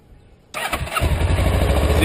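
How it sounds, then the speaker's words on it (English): A motorcycle engine cranks and catches after a brief quiet moment, then settles into a steady, loud, close idle. "Let me turn the bike on."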